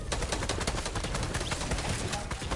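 Dense, continuous gunfire in the video game Fortnite, fast automatic bursts packed together at steady loudness with no pause across the whole stretch.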